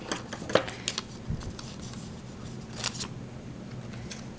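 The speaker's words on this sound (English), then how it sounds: "I'm going to cut out the template just so that I get kind of roughly the same size eyes." Scissors snip through a paper eye template while crafting faces for knitted dolls, giving a few close, crisp cuts in a quiet room with no talking.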